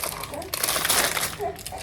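Plastic bags crinkle and rustle up close in a steady burst, with a voice speaking over part of it.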